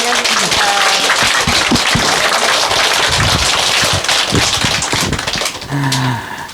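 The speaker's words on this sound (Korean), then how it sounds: "다시 한번 큰 박수 부탁드립니다." Loud applause from a temple Sunday service congregation after a practice presentation, a dense burst of clapping that fades near the end as a voice begins to speak.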